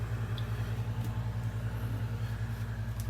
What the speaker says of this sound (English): There's an AC running in there.